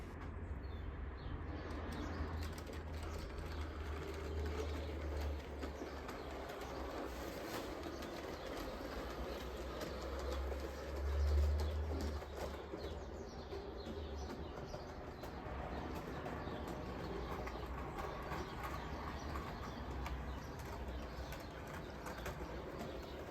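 Rapido Titfield Thunderbolt model train pack locomotive running around a layout with Hornby curve points, a steady low motor hum and faint rail clicking throughout, briefly swelling louder near the middle.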